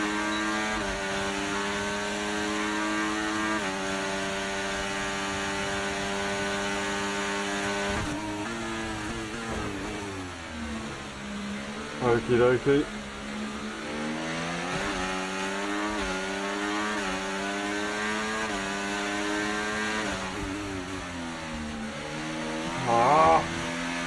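A racing car engine in a video game drones loudly and steadily at high revs through a practice lobby, the pitch shifting as the car brakes and accelerates, with brief bursts of a voice.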